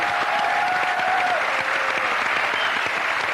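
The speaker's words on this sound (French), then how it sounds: "Bonjour Agnès, on vous applaudit." Steady studio audience applause on a French television talk show, dense and continuous clapping throughout with a faint tone sliding underneath.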